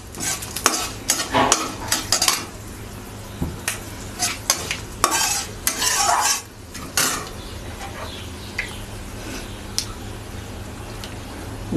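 A spoonful of ginger paste fries in a pan of oil, stirred with bursts of scraping and clinking strokes for several seconds before settling into a steadier, quieter sizzle, close by and with no voices.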